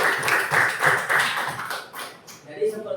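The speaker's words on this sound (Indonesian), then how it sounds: "Tepuk tangan." Several people clap hands during a classroom lesson, a quick, fairly loud and close patter of claps in a loose rhythm that fades near the end, with voices talking over it.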